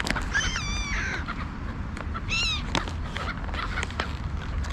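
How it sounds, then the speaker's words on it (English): Crows caw repeatedly in harsh, rasping calls during an evening bird feeding, with several squawks close by over a steady outdoor background. "That little crow is clever."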